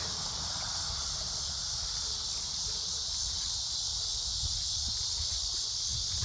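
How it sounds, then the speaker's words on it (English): Cicadas drone continuously in a dense, high-pitched buzzing wash that holds steady and loud for the whole stretch, with no pauses. "The cicadas, there's a lot of them. They're loud."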